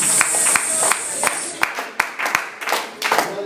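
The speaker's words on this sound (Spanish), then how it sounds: "Démosle a Él una ofrenda de palmas" A church congregation claps hands as an offering of praise, with sharp claps at an uneven beat beneath a voice and a faint high tone.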